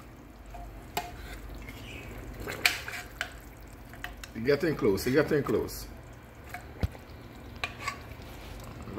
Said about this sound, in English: Now, yeah, you hear a little bubbling up there.